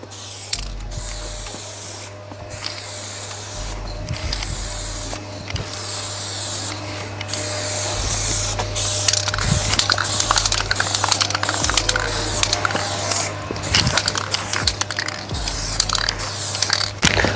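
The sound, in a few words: spray can applying light tint coat to car rear lights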